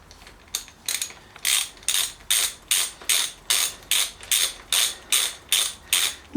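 An 8mm ratcheting wrench tightens bolts on a mountain bike's bottom bracket, making about a dozen crisp, evenly timed bursts of rapid clicking, close and loud.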